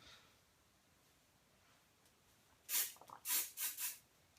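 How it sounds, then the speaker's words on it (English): Hairspray sprayed upward from underneath into hair: four short hissing aerosol bursts in quick succession, the first and third longest, close and fairly loud after a quiet room. "the reason why I'm hairspraying from underneath is because I want more volume"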